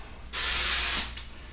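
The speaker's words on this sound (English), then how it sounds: "So you just want to make sure you spray it, tilt it," A single short hiss of cooking spray coats the inside of a cake pan for a buttermilk pecan pound cake, a close, steady burst lasting under a second before stopping.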